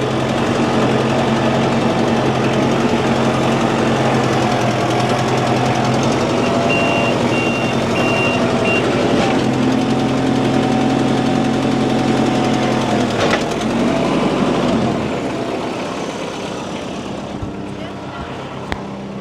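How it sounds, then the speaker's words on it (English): A heavy backhoe engine rumbles steadily at close range with a droning tone, then winds down and fades toward the end. "Now we'll take the backhoe."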